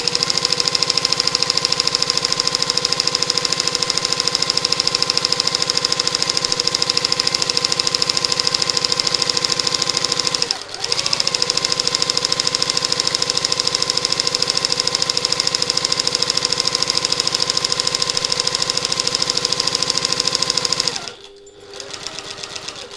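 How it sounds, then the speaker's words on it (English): A sewing machine runs a long, steady stitching pass around a fabric satchel loop, droning loud and close with a brief pause partway, then stopping near the end. "I'm going to sew again at 1/4 of an inch around the entire loop"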